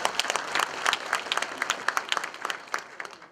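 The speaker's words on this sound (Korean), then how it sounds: "오늘 큰 박수 한번 주십시오" Lively audience applause at a civic academy gathering in Pohang, with sharp individual claps standing out from the steady clapping and no talk over it.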